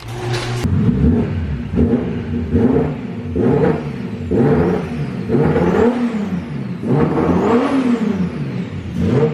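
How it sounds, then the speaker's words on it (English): Nissan R32 Skyline running without a muffler, resonator only, its engine starting and then revving in repeated rising and falling pulls, loud and close, slightly rough and breaking up. "we have a great opportunity to see what the car sounds like without a muffler and just a resonator"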